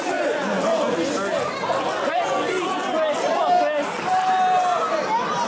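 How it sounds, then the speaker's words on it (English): A loud, dense crowd roars and chatters at a live wrestling event, a continuous babble of cheering voices that swells and holds throughout. "And listen to this crowd."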